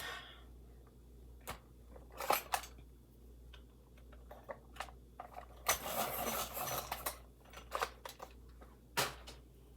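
A 947 dark umber colored pencil is sharpened with a series of short, close scraping and grinding bursts and small clicks, separated by quiet pauses, with no talking.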